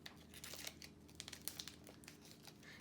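A small plastic bag crinkles and rustles as it is handled during a paper-crafting session, with steady soft crackles and a few sharper crinkles, fairly quiet and close, no talking.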